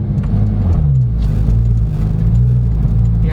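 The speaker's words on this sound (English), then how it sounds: "there's nothing else to hear, just the engine. And there's a bit of tire noise as well." A 2016 Porsche 911 GT3 RS (991.1) on the road, its engine a steady loud low rumble from inside the cabin, blended with continuous tire roar, no talking.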